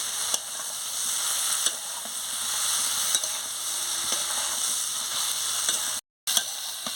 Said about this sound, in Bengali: এদিকে আনাজটাকে এগুলোকে ভালো করে কষে নিই